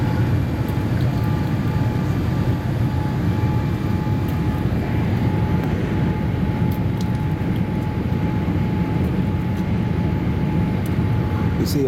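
Qatar Airways Boeing 787-8 Dreamliner landing at Singapore, heard as a continuous, even cabin roar of engines and airflow with a faint steady tone, unbroken for the whole stretch.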